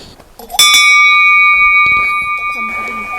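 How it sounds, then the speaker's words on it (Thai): A small hand bell for scaring off bears rings once with a bright metallic clang on a nature trail at Kamikochi, Japan, its clear tone ringing on and slowly fading while a voice speaks softly nearby. "เจอหมีก็มีกระดิ่งไว้ให้สั่นเนาะ"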